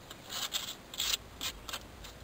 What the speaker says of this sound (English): I'm just using sandpaper.